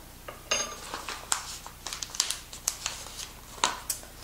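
A level teaspoon of acerola powder goes into a shaker: a handful of light metallic clinks and dry crinkling rustles, close and fairly quiet, scattered in short irregular bursts.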